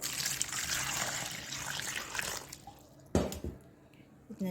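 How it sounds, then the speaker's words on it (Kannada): Water splashes and trickles as raw Totapuri mangoes are rinsed in a bowl, with a sharper splash and knock partway through, then quieter dripping. "ಚೆನ್ನಾಗಿ ವಾಶ್ ಮಾಡಿ ತೊಗೊಳ್ಳೋಣ"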